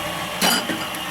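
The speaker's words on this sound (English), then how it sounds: "you're going to put that into your mixer's work bowl with the paddle attachment on" A stand mixer with a paddle attachment runs at low speed in a kitchen, giving a steady close mechanical whir with a brief louder clatter in the middle and no talking.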